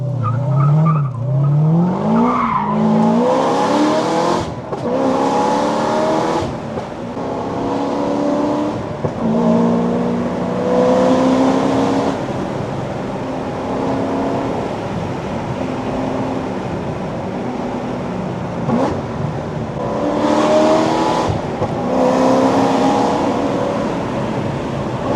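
Corvette C6 ZR1 driven hard on canyon roads, its engine loud and close, revving up through gears in rising sweeps, with lifts off the throttle and repeated surges of acceleration.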